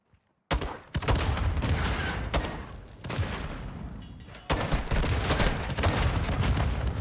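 Gunfire in a shooter video game, loud dense bursts of rapid automatic shots after a brief quiet start, nearly continuous with short gaps between volleys.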